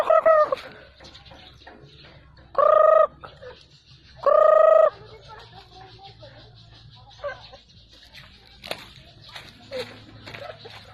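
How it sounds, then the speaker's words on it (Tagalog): Chickens and turkeys on a farm, with two loud, close bursts of rapid gobbling standing out over softer clucking, scattered scratches and occasional faint voices nearby. "Ito yung mga manok."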